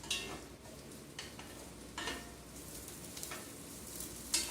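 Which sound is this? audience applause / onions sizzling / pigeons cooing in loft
onions sizzling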